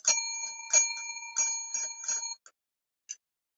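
A bright metallic bell, like a bicycle bell, rings in a quick run of about eight close, loud dings that stop abruptly, followed by a pause and one last ding.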